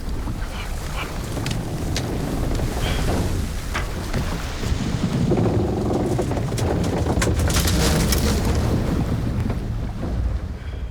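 Screeching metallic scrapes of an object bumping into a boat over a constant deep rumble of wind and water, loud and dense, with grinding high tones swelling midway through.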